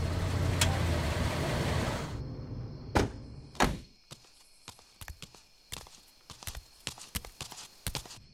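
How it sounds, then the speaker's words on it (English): A car in a film noir sound effect rumbles, slows and comes to a stop, its broad engine noise cutting off, followed by several sharp thunks and clunks like doors and footsteps. "After a while, the car slowed and came to a stop."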